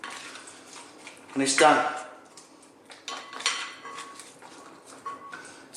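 Tuna and white bean salad being mixed in a bowl, with a brief clatter of utensil against the dish near the start and softer scraping after, under a person talking.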